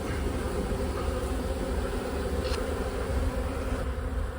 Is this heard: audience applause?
no